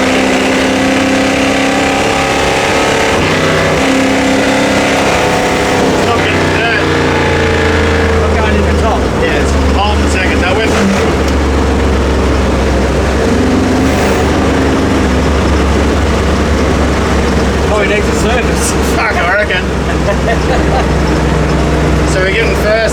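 A custom 1955 Ford Mainline ute's engine revs loudly and close, its steady low roar rising and falling as it works through the gears, with people talking over it.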